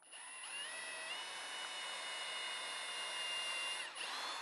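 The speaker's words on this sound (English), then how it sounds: "you can do it on a drill press, of course, but you can also do it with your hand drill" A hand drill bores straight down through a piece of wood in a workshop, giving a steady, close, high-pitched motor whine that holds for several seconds with only slight dips in pitch and no talking.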